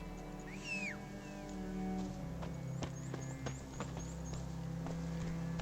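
Roach the horse in The Witcher 3 trots closer after a rising whistle call, its hoof clops tapping out a steady rhythm over a soft in-game ambient bed.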